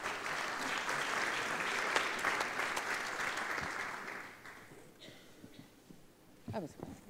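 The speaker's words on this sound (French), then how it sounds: "Merci de l'applaudir." Audience applause greets the vice-president of the Lyon metropolitan area as she is welcomed on stage at a launch event. Steady, dense clapping fills the room, then thins out and fades as a few scattered claps and voices remain near the end.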